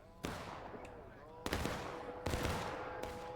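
Musket volleys from a line of soldiers in a Civil War-style battle video game, several sharp cracks spaced about a second apart, each trailing into rolling echo over a dull battlefield background.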